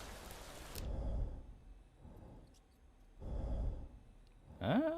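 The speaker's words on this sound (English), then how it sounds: "Sounds like normal breathing." A game character's breathing in the Quarantine Zone video game: slow, soft inhale and exhale swells repeating twice, fairly quiet and close, with a brief tonal sound at the very end.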